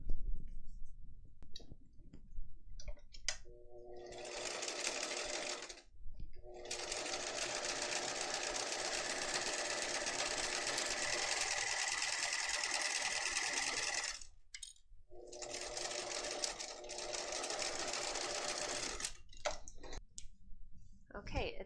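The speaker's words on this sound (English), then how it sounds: "we're going to sew right along that edge again" A sewing machine stitching along the edge of vinyl for a zipper case, running in long steady bursts of fast mechanical whirring that stop briefly between runs, with a voice talking at the start.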